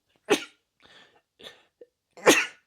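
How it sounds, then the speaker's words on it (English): A sharp sneeze, followed by a few soft breaths and snuffles, then a second loud sneeze, close up in a quiet room. "I'm going to sneeze."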